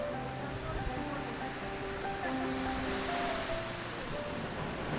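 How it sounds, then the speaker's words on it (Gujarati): A powerful waterfall near Pandav cave at Don Hill Station in Dang, Gujarat, rushing in a steady broadband roar, with faint tonal sounds drifting over the constant wash of water. "આ બહાર એક જબરદસ્ત જે ધોધ જઈ રહ્યો છે"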